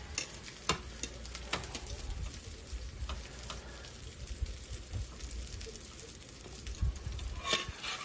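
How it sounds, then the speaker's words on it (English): Buttermilk-coated chicken fries in a pot with a steady sizzle, occasional sharp crackles and pops over a low hiss, fairly close and with no talking. "Need that sizzle"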